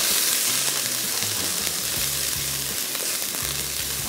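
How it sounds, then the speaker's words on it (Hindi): Garlic and ginger stir-frying over high heat, a loud steady sizzle filling the whole clip with a low rumbling hum beneath and no voices. "लहसुन आ गया, अदरक आ गया, इसको थोड़ा सा किया फ्राई"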